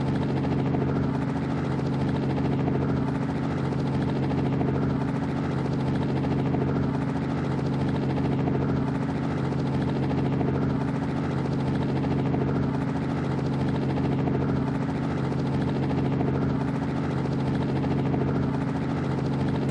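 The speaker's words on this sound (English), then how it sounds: "That's them in the chopper." A helicopter in an open-world gangster crime video game keeps up a loud, steady rotor thump and engine drone throughout, close and continuous with no talk.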